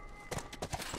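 The horse Callus in The Last of Us Remastered on PS4 clopping along, a quick run of several rhythmic hoof beats close by.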